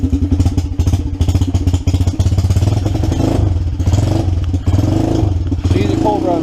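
A 1982 EZ-GO three-wheeler fitted with a 420cc Predator engine runs cold with a steady, loud chugging idle and uneven clatter throughout, close by, with talk over it.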